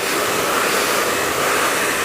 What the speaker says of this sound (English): Keeping the nozzle of the dryer directed onto the hair as well.